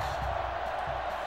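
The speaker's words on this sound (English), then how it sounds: "Crowd going wild." A video game crowd roars at an NCAA Football 06 college football game, a dense, steady wash of cheering noise, with faint speech mixed in.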